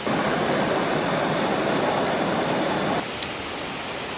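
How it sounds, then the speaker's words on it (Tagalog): Catalina Falls in the Philippines roars as a dense, loud, unbroken wash of falling water close by, dropping a little in level partway through, with a brief faint click and no talk. "So guys, naabot namin diri sa falls, Catalina Falls."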